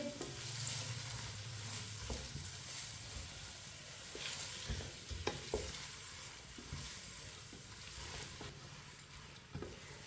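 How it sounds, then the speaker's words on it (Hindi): Onions frying in a pan over a medium flame while being stirred, for Hyderabadi chicken biryani: a steady hiss with scraping spoon strokes and soft knocks throughout. "अच्छी तरह मैंने मिक्स कर लिया है प्याज को।"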